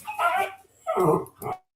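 A dog gives three short, loud barks in quick succession with brief gaps between them, close to the microphone and with no other sound.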